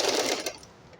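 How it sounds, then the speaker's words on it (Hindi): A sewing machine stitches children's clothing in a quick whirring burst lasting about half a second, then stops and leaves near quiet. "ये सिलाई मशीन चला दी"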